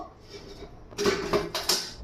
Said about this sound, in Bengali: চলো এই বাসনগুলো এখন ধোবো